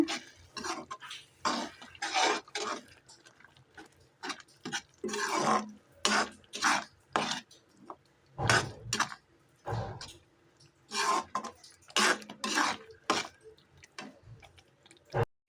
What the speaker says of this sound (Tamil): இதை நல்லா கிண்டி விட்டுருங்க.